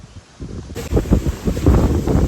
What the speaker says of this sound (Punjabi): ਹਵਾ ਕਿੰਨਾ ਚੋਰਾ ਨਾ ਹਵਾ ਚੱਲਦੀ ਪਈ ਆ